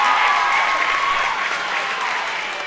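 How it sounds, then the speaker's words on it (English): The Wildcat student section cheers loudly in a school gym at a WIAA playoff volleyball sectional, a sustained wash of yelling and applause that stays strong throughout and eases slightly at the end. "That's next level cheering right there by the Wildcat student section"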